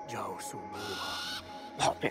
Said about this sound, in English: I can tame the owl.